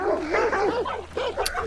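Several dogs bark and yip in rapid, wavering bursts at a moderate distance in the video game Hunt: Showdown, with a low steady hum underneath.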